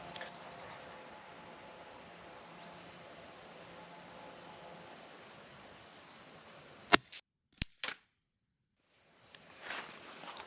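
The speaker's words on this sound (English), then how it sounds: "we'll put some shots off downrange now and find out" An air rifle firing RTX premium pellets downrange: faint background hiss, then two or three sharp, close cracks in quick succession, followed by near-silence.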